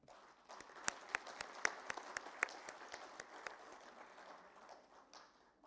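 Audience applause at an evening awards ceremony for the construction industry, with a few sharp, louder claps standing out over a steady, moderate patter that gradually thins toward the end.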